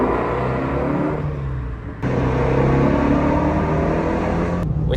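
Shelby GT-350 cruising on a highway through Dallas, a steady close cabin rumble of engine and road noise, with a brief dip and a sharp jump in level partway through, no voices.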